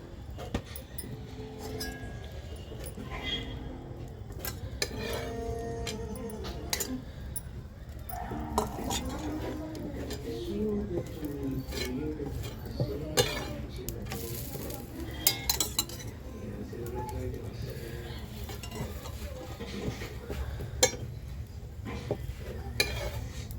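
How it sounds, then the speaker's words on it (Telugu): A chapati roasts on a hot pan, with quiet sizzling under repeated light clinks and clatter of utensils on the pan, near and fairly steady throughout. "పెన్నం వేడెక్కింది కదా చపాతి అయితే వేసుకొని కాల్చుకుందాం"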